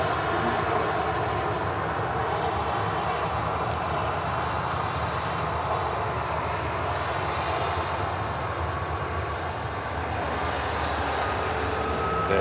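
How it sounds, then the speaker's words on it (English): A Virgin Atlantic Airbus A380 taxiing out at an airport, a continuous, fairly distant engine drone with a steady whine, constant and alone with no voices. "Virgin A380 taxiing out as well."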